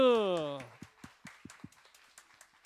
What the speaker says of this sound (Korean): 우리 고3 친구들 힘내라 크게 박수.